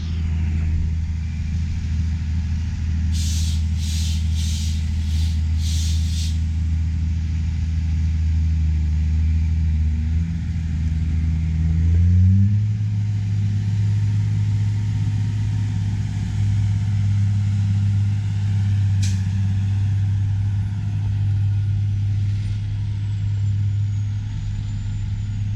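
Heavy machinery rumbles steadily at a corn silage pile on a dairy farm as trucks unload and equipment pushes and packs the pile, a low engine drone that shifts pitch midway, with a few brief high beeps.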